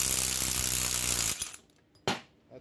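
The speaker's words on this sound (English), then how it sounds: "it's a 19 millimeter nut. I got a socket on there with an electric impact." An electric impact wrench with a 19 mm socket hammers on a wheel stud nut in a loud rattling burst that stops abruptly, followed by one short sharp mechanical clack, close with no talking.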